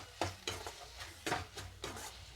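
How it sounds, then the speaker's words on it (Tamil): Ridge gourd fry with salt being stirred in a pan, several distinct scraping stir strokes over a faint sizzle, close and quiet, with no voices. "சால்ட் சேர்த்துட்டு நல்லா மிக்ஸ் பண்ணிக்கலாம்."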